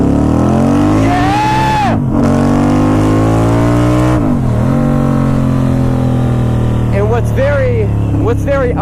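A Harley-Davidson V-Rod motorcycle engine revs loud and close, rising sharply in pitch several times, dropping back between pulls, and climbing again in quicker blips toward the end.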